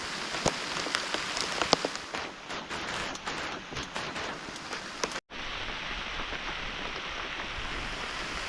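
Heavy rain with strong wind at a farm field shelter, a dense steady hiss of downpour with scattered sharp drop hits on a surface, continuous with no speech.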